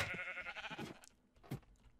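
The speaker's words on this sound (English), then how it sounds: "And now we can go down here and enjoy the sheep farm." Sheep bleat on a sheep farm in Minecraft, several close calls in quick succession at first, then a short pause and one more bleat, with no talk.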